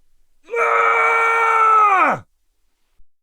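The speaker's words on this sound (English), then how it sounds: "he heard a scream" A single loud, sustained scream from a man, holding steady for nearly two seconds before dropping off abruptly into silence.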